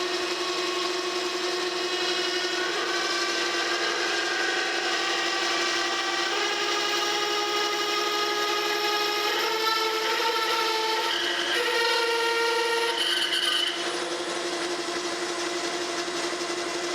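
Metal being bored on a lathe with a large 7/8 inch drill bit for an autocollimator eyepiece adapter: a close, unbroken grinding rub whose squealing tones shift and chatter as the cut goes deeper, with no voices.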